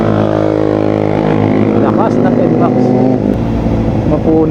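A Yamaha NMAX scooter engine drones loud and close as it climbs a steep hill, holding a steady labored hum that rises slightly in pitch midway.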